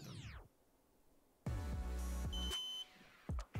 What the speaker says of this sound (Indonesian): di sini disuruh hold power button selama 4 detik sampai dengar suara beep.